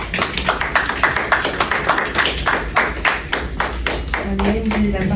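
A church audience applauds in praise of the Lord, rapid overlapping claps filling the space steadily and loudly, with a voice briefly entering near the end.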